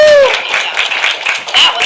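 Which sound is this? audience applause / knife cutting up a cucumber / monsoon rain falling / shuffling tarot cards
audience applause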